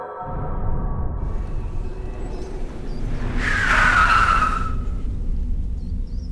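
A car brakes hard and skids to a sudden stop on a road, the sharp tire squeal rising over a steady engine rumble and fading as the vehicle halts, with no talk.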